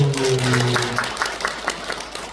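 Audience applause for a senior monk at a Buddhist dharma talk: a short spell of scattered clapping from a gathered crowd, following a brief voice at the start, moderately loud and fading slightly toward the end.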